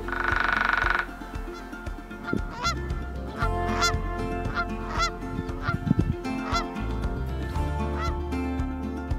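Geese honk repeatedly outdoors near a cold mountain river, a loose series of sharp, nasal calls rising over a noisy background, fairly close and without talk.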